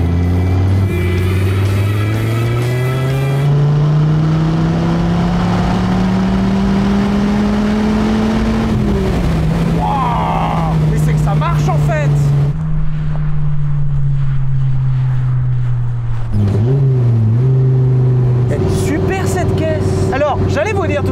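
A Dodge Viper RT/10 sports car's engine drones loudly as it accelerates and shifts, pitch climbing then dropping, while people talk over the steady roar.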